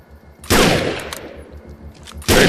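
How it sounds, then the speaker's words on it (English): Sniper rifle fire in the video game Defiance: two loud, sharp shots about two seconds apart, each with a bright crack and a decaying tail, over a quiet low background. "Here's my sniper rifle."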